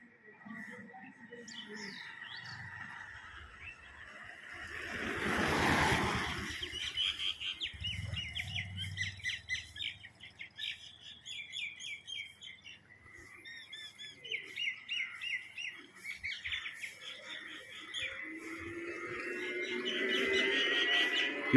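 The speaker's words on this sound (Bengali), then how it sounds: "দু চারটি পাখির গুঞ্জন শোনা যায়" A few birds chirp and call on a heavily foggy morning in Sapahar, Bangladesh, with scattered tweets and a dove-like coo spread across the scene, moderately distant, along with some low background noise.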